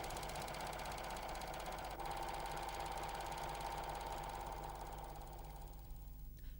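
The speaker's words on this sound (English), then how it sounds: "start sewing slowly" A Janome 6234XL overlocker stitches fabric at slow speed, a steady close mechanical whir with a fine rapid rhythmic chatter, running alone before easing off at the end.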